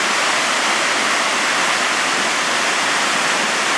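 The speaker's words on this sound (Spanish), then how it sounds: "Estamos aquí en la cascada de Atlihuetzia" Waterfall at Atlihuetzia in Tlaxcala, Mexico, a constant, loud broadband rush of falling water with no pauses or other sounds.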